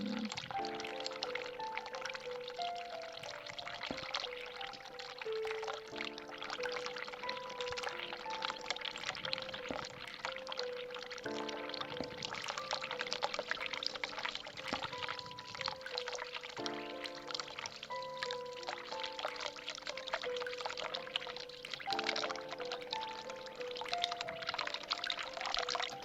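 Hot water pouring steadily in The Cat Lady video game, a continuous liquid stream layered over looping game music, with no talking.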